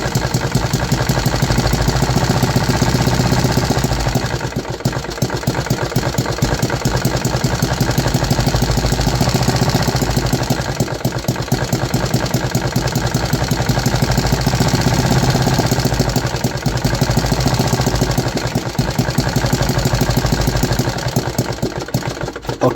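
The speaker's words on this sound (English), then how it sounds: "There was a nice start on the very first crank, but the engine tried to run away, so I lowered the idle and I tried again." A 3D printed engine fitted with a hybrid piston idles steadily and loudly at close range, a continuous rapid mechanical chugging that holds for the whole stretch with no voices.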